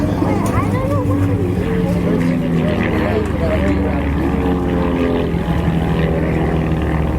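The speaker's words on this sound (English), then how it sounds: "Diving for the deck now in the lead aircraft, but Todd pulling over the top" Propeller-driven RV-7 and RV-8 aerobatic planes dogfight at an airshow, their engines a loud, continuous droning roar that rises and falls in pitch as an announcer talks over them.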